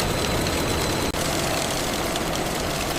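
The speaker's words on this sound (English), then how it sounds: "The mechanical rubber belt blanching." A factory blanching machine with two rough rubber belts spinning in opposite directions to rub skins off roasted peanuts makes a loud, continuous mechanical roar and hum, steady throughout with one brief dropout.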